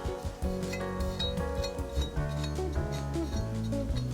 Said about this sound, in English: you can kind of hear my finger catching on the burr